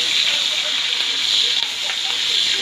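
Green chillies fry in hot oil left over from frying brinjal, giving a steady, bright, continuous sizzle at close range with no pauses.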